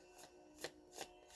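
A deck of tarot cards being shuffled in three or four quick riffling bursts, close and quiet, with short pauses between them and no talking.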